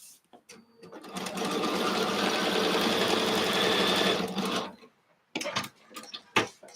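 A sewing machine stitching long straight rows of fabric runs in one steady, close whirring burst of about four seconds, then stops, followed by a few sharp clicks and handling knocks.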